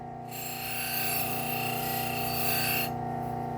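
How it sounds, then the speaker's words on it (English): Scotch-Brite abrasive wheel deburring a freshly sharpened kitchen knife: a steady, loud rasping hiss over a constant motor hum, starting sharply and cutting off near the end, with no talking. "I am going to hit this with my Scotch-Brite."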